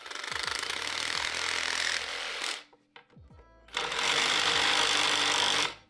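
A Milwaukee M18 Sawzall reciprocating saw cutting a metal credit card, a loud, rapid buzzing rattle that stops briefly for a short pause with a few clicks, then resumes at full strength.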